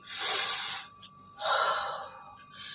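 A person takes a long, deep breath in and lets it out, close and clearly audible, then begins another inhale.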